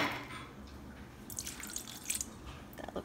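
Water is poured into glue to make a paper mache paste, giving a light, uneven trickle and splash with a few brighter bursts over about three seconds and no talking.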